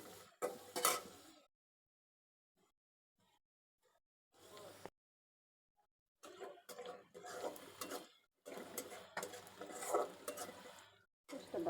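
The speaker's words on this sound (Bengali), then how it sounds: "কড়াইতে তেল দিয়ে দিলাম তেলের ভিতরে একটু ভালো করে ভেজে নিয়ে মশলা দেবো" Oil in a wok sizzles in bursts while a spatula stirs and scrapes, cooking for a hilsa fish and green banana curry; loud clattering stretches alternate with near-silent gaps.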